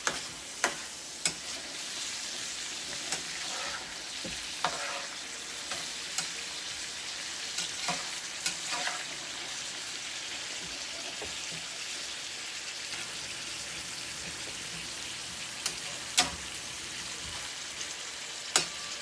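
Collard greens, cabbage and bacon fry in a pan, giving a steady hissing sizzle throughout, broken by sharp scrapes and clacks as they are stirred and moved around.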